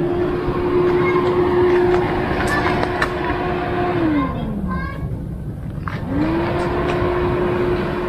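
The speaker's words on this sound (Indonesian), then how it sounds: "Ini kalau saya nyalakan extra fan-nya." An extra cooling fan in a Toyota HiAce diesel motorhome gives a steady, loud, close mechanical hum that sags briefly in pitch and then recovers, over a constant broadband drone.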